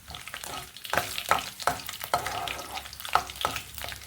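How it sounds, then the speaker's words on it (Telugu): Onion pieces frying in tempering oil for a Telugu bangaladumpa palakura curry, a close, lively sizzle broken by repeated spoon strokes and stirring clatter, with no talk. "ఈ తిరగమూత వేగాక ఈ ఉల్లిపాయ ముక్కలు వేసి వేగించుకుందామండి"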